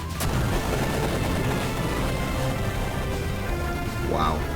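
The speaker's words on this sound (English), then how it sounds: "Wow. Epic explosion." Booming explosion from the retro video game Final Fantasy III, a loud dense burst of noise sustained throughout with a brief rising synthetic effect near the end.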